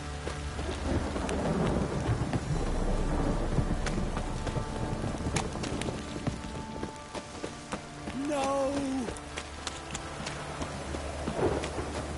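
Steady rain pours throughout in the video game Witcher 3, with rolling thunder rumbling low and a few brief tonal chimes partway through; no one speaks.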